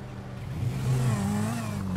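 Car engine revving and accelerating in the video game GTA 5 during a chase after a limo, a steady loud motor drone with rising and falling pitch across two seconds, no talking.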